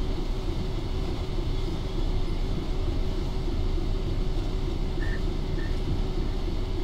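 A Class 66 EWS diesel locomotive hauls a cement train in Train Sim World 4. Its engine drones and the wheels rumble steadily and continuously at close range, with faint short squeals near the end and no talk.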